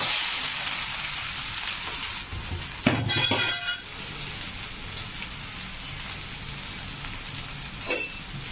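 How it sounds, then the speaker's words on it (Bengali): Soybean chunks dropped into hot oil for a soybean curry give a loud burst of crackling frying near 3 seconds, then settle into a steady hiss of sizzling with a smaller flare near the end. "তেলটা দেখতেই পাচ্ছেন গরম হয়ে এসছে। এরপর আমি সয়াবিনটা দেব।"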